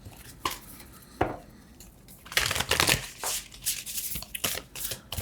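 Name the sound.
shuffling tarot cards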